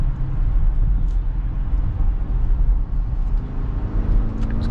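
A 2024 Porsche Cayenne S with a V8 and 8-speed automatic pulls hard, its deep engine rumble steady and loud from inside the cabin, with no one talking.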